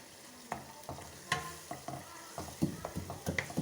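Whole cloves, badam ke phool and black peppercorns dry-roast in a karahi pan, giving a quiet, irregular series of light crackles, pops and scraping stirs, close by with no talking.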